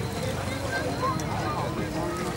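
Steady wind of about 35 km/h rushes and buffets the microphone outdoors at an aerobatics show, a continuous broadband roar with faint voices underneath.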